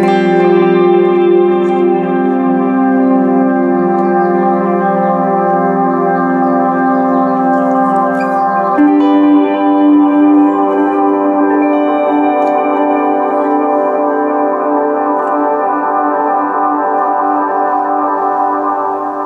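Electric guitar run through an Echo Park delay pedal set for endless repeats, sustained chords smearing into a dense, washing wall of echoes that hold steady and loud, shifting to a new chord midway, with no voices.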